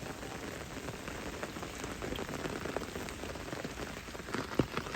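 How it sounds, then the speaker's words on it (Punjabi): Steady rain falling on a surface, a dense wash of patter with scattered louder drops, continuous throughout with no voices. "ਚੰਗਾ ਮੀਂਹ ਪੈ ਗਿਆ"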